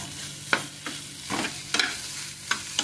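Egg bhurji sizzling in a pan with a spatula scraping and stirring in several distinct strokes, steady frying hiss underneath, close and clear.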